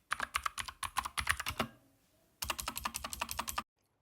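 Rapid typing on a Keychron K2 mechanical keyboard, a quick run of crisp clacking keystrokes, a short pause, then another burst, close and alone with no voices.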